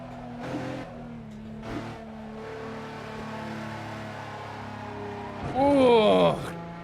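Race car engine in the Assetto Corsa racing game during a 24-hour Le Mans event, a steady engine drone under voices that rises to a sharp rev near the end.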